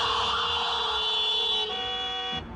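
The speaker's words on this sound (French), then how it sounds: "l'usage de l'avertisseur est interdit en ville" A car horn blares in a long, steady, loud sustained honk on a town street, with the tone shifting slightly partway through and cutting off near the end, no voices present.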